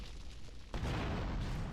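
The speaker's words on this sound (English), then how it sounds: "So we don't die from the explosion there." A sudden deep boom erupts in the Grand Theft Auto Vice City video game, loud and rumbling, and a sustained roar hangs on after the initial blast.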